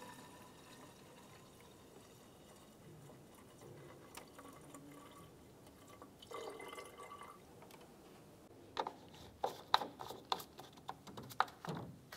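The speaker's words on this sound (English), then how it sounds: "continue on by filling the overflow tank up to the maximum line" Coolant poured into the overflow tank of a 2004-2015 Nissan Titan during a water pump replacement, faint at first, then louder splashing drips and trickles near the end, with no talking.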